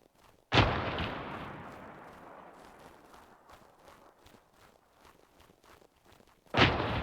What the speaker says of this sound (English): Yeah, it's artillery firing.